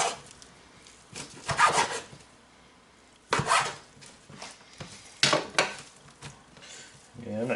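A knife slices meat for a Reuben calzone on a board, heard as several short scraping, knocking cuts in bursts with quiet gaps between them.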